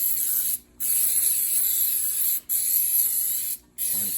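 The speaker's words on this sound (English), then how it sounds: "And then I'm going to spray" Spray adhesive hisses onto tape in three loud, close bursts, each about one to two seconds long and separated by brief silent pauses.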